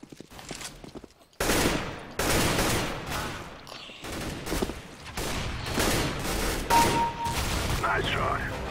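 Gunfire rattles in a Counter-Strike: Global Offensive AWP arena match, loud bursts and dense shots filling most of the stretch after a quiet opening, with fainter game noise between them.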